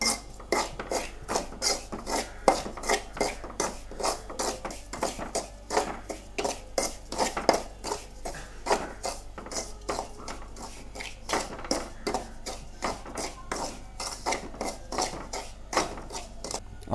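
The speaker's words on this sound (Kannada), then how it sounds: "ಇದೇ ರೀತಿ ಒಳ್ಳೆ ಮಾಡಿ ನಾವು ರವೆಯನ್ನು ಫ್ರೈ ಮಾಡಬೇಕು." Semolina (rava) fried in a pan for laddu, with quick, steady scraping and clinking strokes of a spoon against the pan repeating rhythmically and close up, and no voices.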